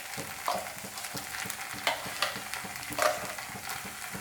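Ground masala paste sizzling in a hot pan as it is stirred, a continuous frying hiss under repeated scraping and clacking strokes of a spoon, close and fairly quiet.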